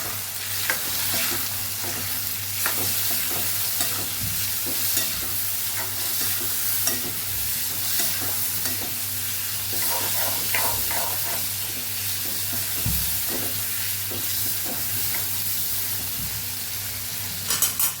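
Tomatoes, cumin and turmeric sautéing together in a pan for Kathiyawadi dhaba-style sev tomato curry, with a steady loud sizzle throughout and repeated light stirring scrapes.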